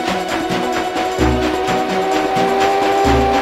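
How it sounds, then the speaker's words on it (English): A steam train whistle in the Zelda Spirit Tracks video game is drawn down slowly, holding a loud sustained tone over a rhythmic chugging train engine that keeps pulsing beneath it. "listen to the whistle when you pull it down slowly"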